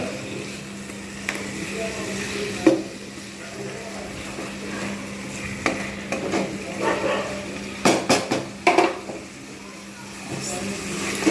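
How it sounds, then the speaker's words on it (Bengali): Hilsa fish head cooking with taro leaves in a pan, stirred continuously: scattered scraping and clinks of a spatula against the pan over a faint sizzle, with a few sharper clusters of knocks near the end. "এইরকমভাবে আমাকে কিন্তু কন্টিনিউ নাড়িয়ে যেতে হবে"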